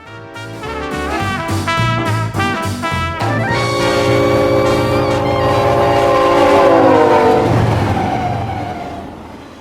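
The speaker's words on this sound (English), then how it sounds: "the train is somewhere in Texas" A passenger train travels somewhere in Texas, its loud horn blasting in several short chords before a long sustained note that slides down, over a constant rolling rumble.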